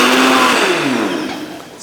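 A blender whirs loudly at close range, blending coffee for a keto mocha frappe, its motor pitch dipping and settling over a brief, steady burst with no talking.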